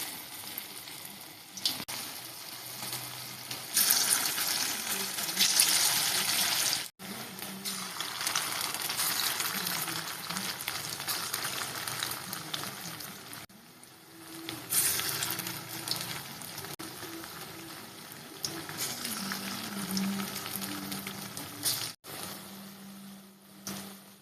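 Mixed pakora batter frying in hot oil in a kadai, a steady loud sizzle with bursts and brief pauses as more batter goes in, no voices.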